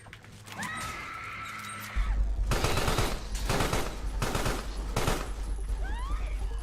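Enemy guards firing guns in Carrion, rapid bursts of automatic gunfire in repeated volleys, loud and close, following a creature-like squealing cry.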